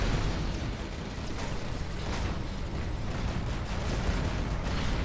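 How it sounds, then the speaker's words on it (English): Tank battle explosions in a strategy video game, a dense continuous rumble of bursts and booms layered together at steady loudness, without clear gaps. "Massive tank engagement now in the middle"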